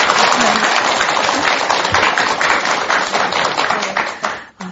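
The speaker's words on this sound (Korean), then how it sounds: "큰 박수 한번 주시기 바랍니다" Audience applause at a Korean Buddhist dharma talk event, a steady wash of many hands clapping at close range, holding loud throughout before tapering off at the very end.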